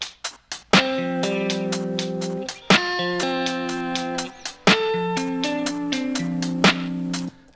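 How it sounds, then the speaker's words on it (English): Beat intro of snare, hi-hats and guitar in Ableton: plucked guitar chords ring out in repeating phrases while crisp snare hits and ticking hats punctuate the rhythm, loud and up close. "this little intro section of my beat is just snare, hats, and guitar."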